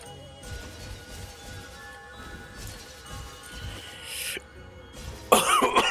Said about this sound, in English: I don't like coughing.